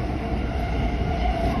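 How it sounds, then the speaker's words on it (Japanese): Steady rumble and hum from inside a moving JR West 225 series electric train on a Special Rapid service, with a constant low drone and faint rolling wheel noise. "今乗ってるのはですね JR 西日本の225系電車です。"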